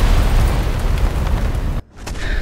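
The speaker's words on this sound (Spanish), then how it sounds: "Dos cañonazos le hicieron crítico." Heavy cannon fire in a video game, a loud sustained booming roar that cuts off abruptly near the end, followed by quieter rumbling returning after a brief silence.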